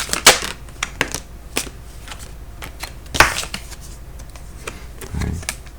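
Tarot cards are shuffled and drawn in a quiet room: a series of sharp, scattered card snaps and riffles at irregular intervals, close and moderately loud, with no talk.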